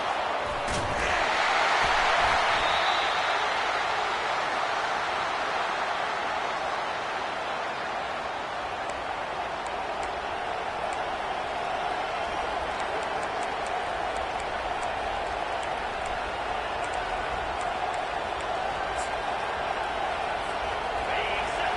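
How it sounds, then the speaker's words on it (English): A Nebraska football stadium crowd cheering: a broad, sustained roar that swells loudest near the start, then holds as a steady, distant wash of noise for the rest of the stretch. "listen to this crowd coming through"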